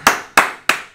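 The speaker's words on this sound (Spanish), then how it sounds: "Un aplauso para el oráculo" Three sharp, evenly spaced claps ring out close by in a podcast studio, each a crisp broadband slap with a quick decay and no voices in between.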